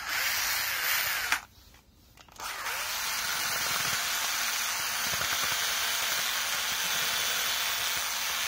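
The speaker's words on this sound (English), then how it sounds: "To smooth it off, you can take the drill and then just pull it through there." A hand drill pulled through a hole in wood to smooth it: a steady, loud, broadband grinding whir that cuts out briefly near the start, then runs continuously to the end.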